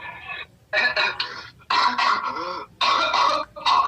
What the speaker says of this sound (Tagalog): Umuubo na, boy.